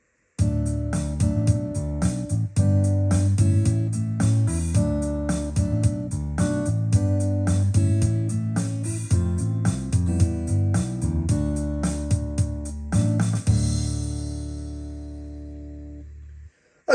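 Multi-track MIDI recording playing back on a Yamaha PSR-SX920 keyboard: a steady, dense arrangement of drums, bass and layered keyboard parts in tight quantized time, ending on a ringing chord that fades out.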